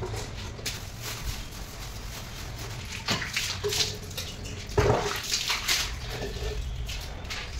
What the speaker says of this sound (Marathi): आता की फक्त फरशी घासून धुवून घेते, पाणी बाहेर काढते